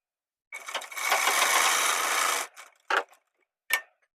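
A sewing machine stitches denim jeans, running one sustained burst of about a second and a half, then firing two short stitching bursts, close and clear with no talking.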